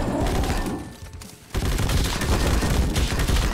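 Gunfire in the action game MADNESS: Project Nexus, loud and dense, with a sustained rattle of shots that briefly dips to a lull, then resumes as a heavy continuous barrage.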